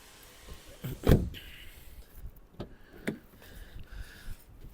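Car door of a 2007 Volkswagen Golf Plus 1.6 MPI shutting with one solid, close thud, followed by a few quieter clicks and knocks.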